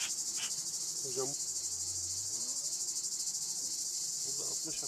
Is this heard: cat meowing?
no